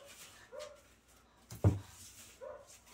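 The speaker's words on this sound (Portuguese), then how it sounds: "E ela late com a bolinha na boca, gente." A dog barks with a ball held in its mouth, giving muffled, stifled woofs: a few soft low yips and one stronger bark, close by indoors.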